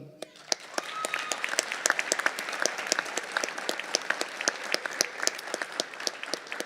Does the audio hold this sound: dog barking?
no